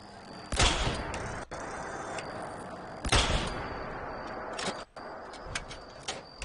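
A Gauss rifle fired in Fallout 76, two sharp loud blasts a few seconds apart, each trailing into a decaying rumble, with quieter game ticks and effects between.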